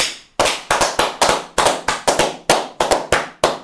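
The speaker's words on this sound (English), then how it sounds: "Why are we clapping, mate?" A small group of people clap in short, sharp bursts, about a dozen loud claps in uneven rhythm, close by, with no talking over them.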